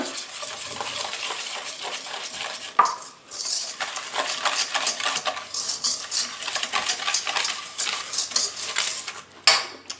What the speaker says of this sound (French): On va commencer par crémer notre beurre. Avec le sucre.